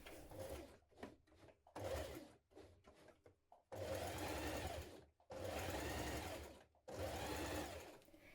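A sewing machine basting a pocket flap onto a winter coat runs in short bursts, then longer steady stitching runs, close and clear with brief pauses between.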